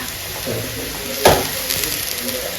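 Chopped spinach drops into a hot pan of taro and prawns, setting off a steady frying sizzle with a brief sharp burst as the greens hit the oil, stirring noises scattered around it.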